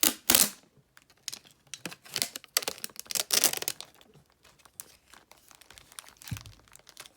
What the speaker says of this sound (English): Take me a little packing tape